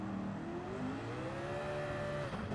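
Engine drone from a Corvette race car in Gran Turismo 7, a steady harmonic whine that climbs in pitch and then dips briefly near the end as the car slows.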